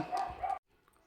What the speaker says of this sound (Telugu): కుక్కలు ఎట్లా అరుస్తున్నాయి చూసారా ఫ్రెండ్స్